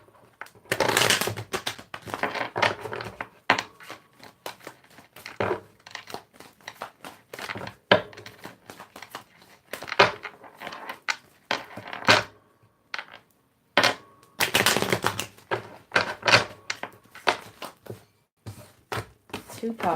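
Tarot cards are shuffled in repeated bursts of riffling and crisp flicking, close and fairly quiet, with short pauses between handfuls.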